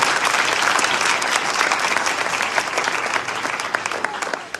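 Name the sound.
loud applause at a church revival meeting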